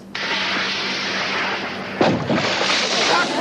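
A torpedo launches from a Navy PT boat with a loud, rushing whoosh that holds steady for several seconds, then a sudden swelling burst partway through, as in a sitcom sound effect.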